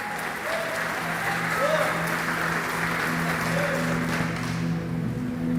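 A church congregation applauds in a steady, dense wash of clapping, fairly loud and continuous, with voices calling out and a sustained tone humming beneath.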